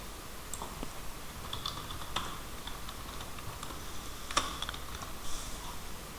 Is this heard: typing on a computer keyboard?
yes